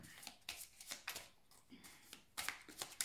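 Tarot cards being handled and laid down, faint close papery slaps and shuffling rustles in quick irregular bursts, quiet overall.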